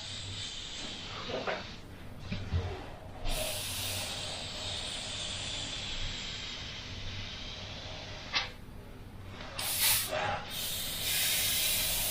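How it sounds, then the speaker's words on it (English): Near and fairly loud, an airbrush sprays custom paint in a steady hiss that stops and restarts several times as the brush is moved at different angles and distances. "moving the airbrush at different angles and things like that"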